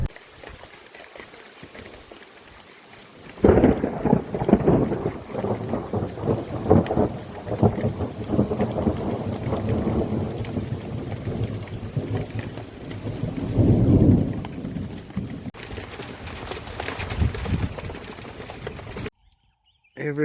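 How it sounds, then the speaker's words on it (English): An afternoon thunderstorm with steady rain on surfaces, rolling thunder rumbling loud and close at intervals over the downpour, with some quiet talk underneath. "that was our first proper rain on the Tuesday afternoon"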